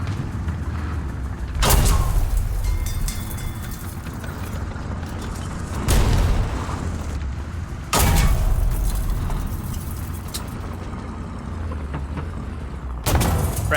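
Tank gunfire in an online tank battle game, with four loud, sharp cannon blasts spaced a few seconds apart over a constant rumbling engine drone.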